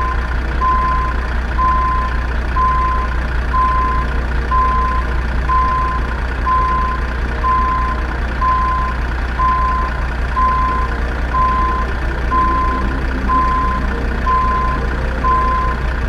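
A heavy truck in American Truck Simulator reverses into place, its steady mid-pitched reversing beeps repeating evenly over a constant low diesel idle rumble.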